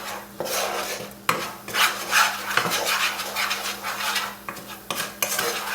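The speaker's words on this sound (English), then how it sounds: "Give this a quick little stir." A spoon stirs black pepper and salt into a mixture for pulled pork croquettes, scraping and clinking against the bowl in a steady, continuous rhythm with no voices.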